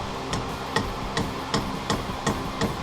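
Sharp hammer taps drive a plastic scraper in on top of a metal scraper while removing the cylinder head from a Willys Jeep L134 engine, about seven evenly spaced close strikes over a low background hum.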